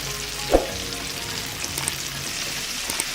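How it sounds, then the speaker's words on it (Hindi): Chicken deep frying in oil, a continuous close bubbling sizzle with one sharp knock early on, no voices. "ऑयल इतना होना चाहिए कि ये डिप हो जाए अंदर से, क्योंकि ये डीप फ्राई होते हैं"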